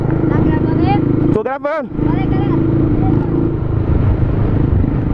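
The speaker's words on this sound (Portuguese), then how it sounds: "a gente tá andando de moto agora" Motorcycle with a straight-pipe exhaust, no muffler, droning loud and steady as the bike is ridden, with people talking over the engine noise throughout.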